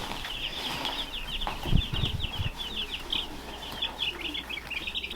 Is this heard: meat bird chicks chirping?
yes